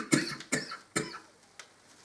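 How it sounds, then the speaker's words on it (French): Three sharp coughs in quick succession, close by, followed by a softer fourth, with no speech. "excuse-moi, je tousse toujours"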